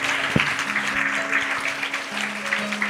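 An audience at a church Sunday school program claps after children recite a psalm from memory. The applause is dense and continuous, with a faint tonal hum running beneath it.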